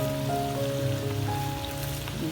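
Chopped spinach hits potatoes frying in a pan for aloo palak, giving a continuous close sizzle and hiss with a faint tonal hum underneath.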